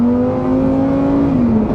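A Lamborghini Huracan V10 supercar engine holds a loud, close, strong tonal drone that climbs gently and then dips as the revs ease near the end, with no speech over it.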